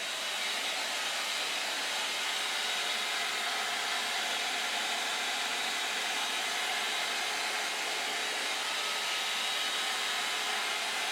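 A hair dryer blows steadily on long hair while a large brush works through it, a loud, unbroken airy roar lasting the whole stretch with no talking.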